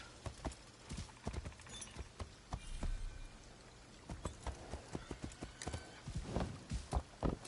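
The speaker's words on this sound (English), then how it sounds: "What, Horsey? Apparently you can't jump" Horse hooves clip-clop in the video game Assassin's Creed Shadows, an irregular run of close, distinct hoofbeats throughout with faint background ambience.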